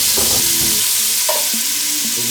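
Butter hisses and sizzles in a very hot pan as a roux is started, with a dense, loud, steady frying roar and a few stirring clinks close up, and no talking.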